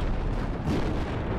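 Artillery fire in a military video game, a heavy, rumbling barrage of booms blending into a continuous thunderous roar, loud and sustained with no talking.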